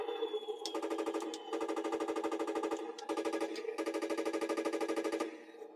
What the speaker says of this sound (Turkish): Bu taramalı tüfek efekti olmuş oluyor.